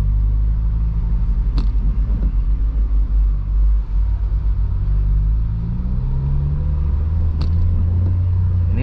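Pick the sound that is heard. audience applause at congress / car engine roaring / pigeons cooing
car engine roaring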